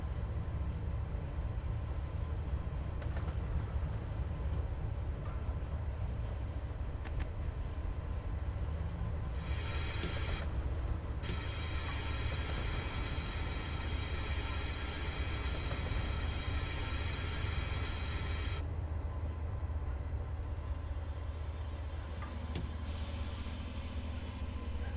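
Simulated DB BR 365 diesel shunting locomotive in Train Sim World 3, running on the Stockheim to Bad Vilbel route, with a steady low engine rumble and continuous rail noise throughout, including bands of high squeal, with no talk.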